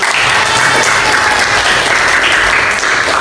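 Loud, dense applause from a group of students in a classroom activity session, continuous even clapping throughout with no pauses.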